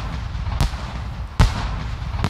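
Fireworks set off by a base trigger in the survival game SCUM burst loudly twice, with sharp bangs over a steady crackling, popping background.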